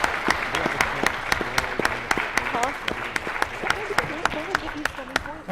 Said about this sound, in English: How about one more round of applause for all the teams, folks?